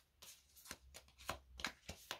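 Oracle cards for lovers being handled and drawn from the deck: a series of soft, papery riffling and sliding bursts, close and quiet, with no voices.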